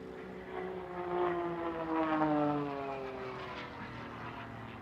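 Aerobatic propeller airplane flying a Cuban 8 at an air show, its engine drone rising and falling with pitch shifts as it swings overhead, steady and moderately loud throughout with no voices.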